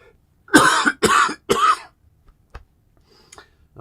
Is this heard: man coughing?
yes